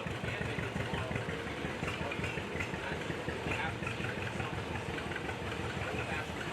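A 1936 John Deere BR tractor engine runs at an outdoor steam show, a steady, even, low rumbling idle with a continuous pulsing beat and faint talk in the background.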